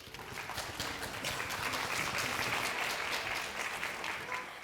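A crowd at a school district literacy competition applauds steadily, a dense wash of clapping that holds for several seconds at full strength before tapering slightly.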